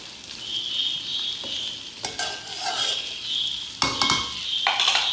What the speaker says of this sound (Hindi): ये देखिए, हमारी भिंडी फ्राई हो रही है।